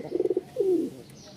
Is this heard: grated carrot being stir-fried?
no